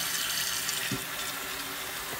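Water runs steadily from a slightly leaking faucet under repair, a constant hissing stream with one brief thump partway through.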